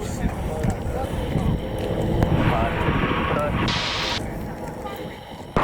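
Racing aircraft engines of the Sport Class roar together at an air race start, a broad, sustained drone that swells and then eases while an announcer speaks over it.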